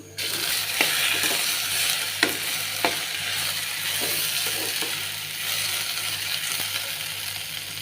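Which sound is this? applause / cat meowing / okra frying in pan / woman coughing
okra frying in pan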